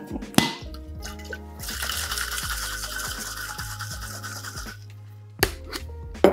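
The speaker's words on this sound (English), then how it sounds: "you wanna start by dry shaking" Egg white and rye whiskey cocktail being dry shaken in a shaker without ice, heard as a steady rattling slosh lasting about three seconds, framed by a few sharp clinks and knocks of the shaker.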